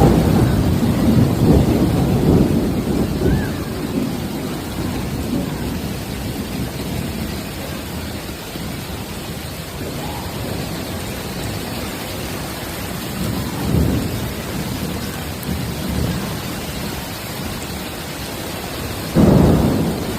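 A heavy thunderstorm over Tokyo with hail in places: dense, steady rain pours throughout while several low thunder rumbles roll in, the strongest near the start and end, with no voices.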